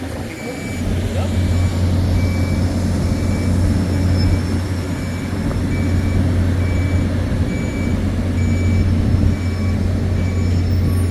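A 120-ton lowbed truck reverses at a site in Saudi Arabia, its diesel engine droning loud and steady while a backup alarm beeps in a regular rhythm above it; voices speak faintly over the noise.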